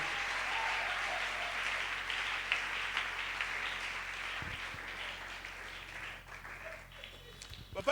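A church congregation claps and applauds steadily in praise, the applause close and continuous, with voices calling out and talking underneath.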